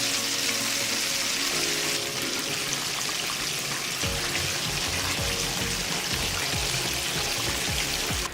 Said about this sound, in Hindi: हमने अच्छे तरीके से इसको फ्राई कर लिया है।